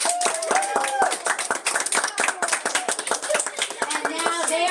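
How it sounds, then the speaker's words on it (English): Lively applause from a crowd fills the clip, with cheering voices and children's shouts mixed in throughout. "So a big round of applause is good."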